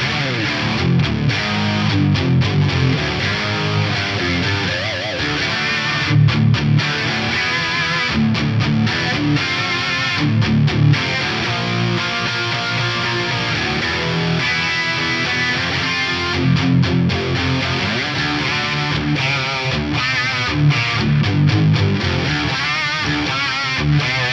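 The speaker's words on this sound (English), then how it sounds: "Same settings with the mix reduced on dirty tones as instant late 80s, early 90s chunk." A distorted electric guitar played through a Fractal FM9 with the effect mix reduced gives a chunky, late-80s-style crunch, with continuous loud riffing and palm-muted chugs throughout.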